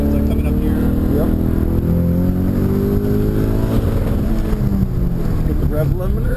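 A Ford EcoBoost Mustang engine at an autocross drones loud and steady, heard from inside the cabin under wind buffeting, with rising and falling pitch as it pushes toward the rev limiter; people talk over it.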